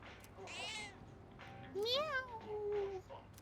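Inside Persona 3 Reload, a cat lets out several clear meows, one of them a rising-and-falling cry near the middle, over a faint steady game background.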